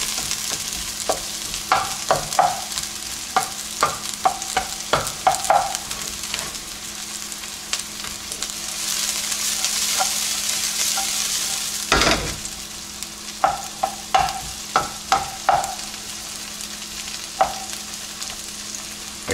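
Onions caramelize in a hot frying pan, a steady sizzle broken by repeated sharp spatula taps and stirs, a louder scrape near the middle.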